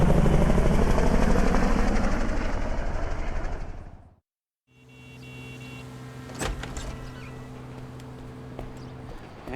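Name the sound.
helicopter lifting off in GTA Online video game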